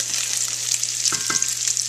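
A wooden spoon stirs sausage gravy in a nonstick pan, with a close, continuous bubbling sizzle and a couple of soft knocks from the spoon.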